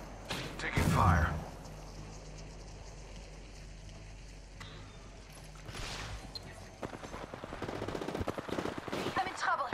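Gunfire in the Apex Legends battle royale game: a loud burst early on, then scattered shots and rapid crackling fire building toward the end, with game effects and voices in the background.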